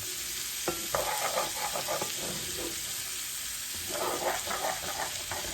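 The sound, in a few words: liver and onions frying in a pan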